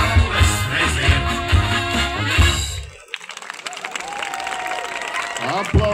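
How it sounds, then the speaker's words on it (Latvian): Applause from an audience for a youth dance group after a folk-style dance performance: music plays loudly at first, then cuts to a sustained crowd clapping with some voices mixed in. "Aplausi jauniešu deju kolektīvam Imanta par deju Dieviņš klusē."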